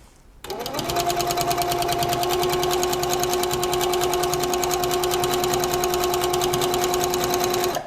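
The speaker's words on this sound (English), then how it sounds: "So let's do some stitching." A Pfaff Powerquilter quilting machine runs steadily for several seconds, a loud, even mechanical hum with a fast rhythmic stitching chatter that starts abruptly and cuts off at the end.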